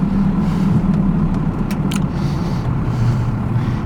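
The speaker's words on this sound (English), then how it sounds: "this truck makes all the right sounds" 1992 Dodge 2500 4x4 pickup driving up onto a freeway, its engine running with a loud, close, steady low rumble and faint road noise, alone for a few seconds.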